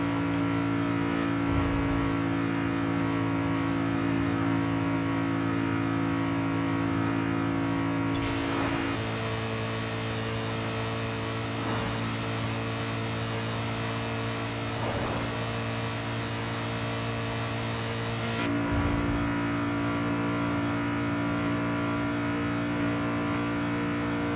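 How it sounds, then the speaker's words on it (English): High-revving V8 race car in Forza Horizon 5, a steady sustained engine drone under continuous hum, with brief surges in revs and a short burst of louder broadband noise partway through. "This sounds like a race car"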